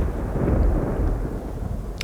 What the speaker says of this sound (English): it sounds like a thunderstorm might be coming through